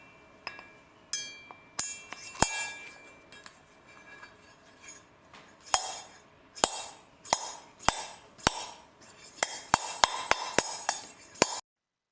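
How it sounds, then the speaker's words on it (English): A valve from a 2002 Honda Shadow 1100 cylinder head slides and drops in its valve guide, giving a series of about a dozen sharp metallic clinks and taps, close and irregular, some in quick pairs. "I want to take the valve and slide it back in the valve guide and check for freedom of movement"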